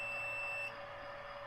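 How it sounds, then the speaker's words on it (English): A faint high electronic beep sounds from a push-button start being installed in a 1976 BMW 2002, a steady tone that cuts off partway through, alone and quiet. "You hear the beep?"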